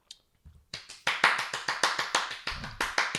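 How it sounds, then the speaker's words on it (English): Hands clapping, a brisk run of about a dozen sharp, close claps in a steady rhythm after a few soft taps, loud and near, with faint voices briefly underneath. "Clapping was crazy"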